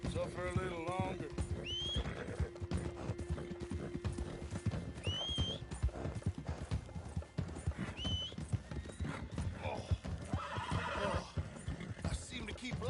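A horse in Red Dead Redemption 2 whinnies several times over steady clip-clopping hooves, close and continuous, with other game sounds underneath.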